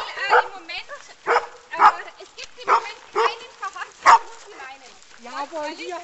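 A collie barks and yips repeatedly in short bursts, close by, with a few whimpering sounds toward the end.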